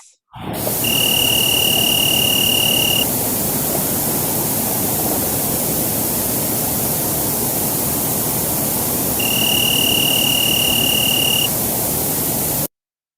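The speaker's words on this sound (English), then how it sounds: "it looks like we think it's a cricket" An insect, probably a cricket, in a field recording from Tanzania makes a thin, steady high-pitched tone in two long bursts over a constant loud hiss of static.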